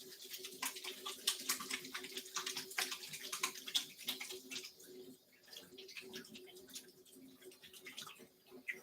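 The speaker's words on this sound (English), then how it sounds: "I'm going to wash my hands really fast" Hands washed under running tap water in a kitchen, a steady splashing stream with irregular rubbing and dripping, heard close without speech.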